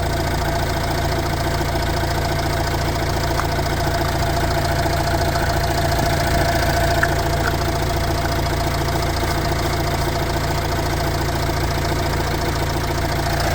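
A 2019 Opel Vivaro van with a 1.6 engine runs at a steady idle, a constant close hum and rattle that holds unchanged throughout with no talk.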